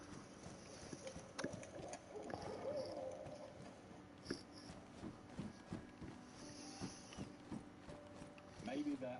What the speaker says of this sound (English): This owl has exactly one voice line?